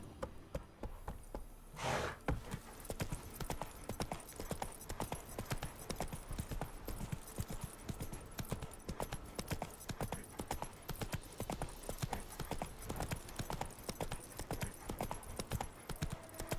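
Roach, a horse in The Witcher 3, trots steadily with a continuous, fairly loud clip-clop of hooves throughout, preceded by a brief burst of noise near the start.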